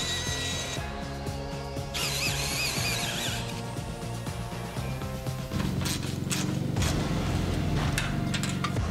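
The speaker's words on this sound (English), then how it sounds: "So today we're gonna start with the bolts that I gotta put in." A power tool whirs and grinds steadily while driving bolts into a rusty van box build, running loud and continuous with a few pitch changes and rattles from the workpiece.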